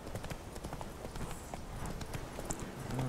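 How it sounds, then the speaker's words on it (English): Horse hooves clip-clopping steadily while riding through a bog in The Witcher 3, a continuous trotting rhythm at moderate loudness beneath a low ambient game background. "the horse running through the bog thing just doesn't work well"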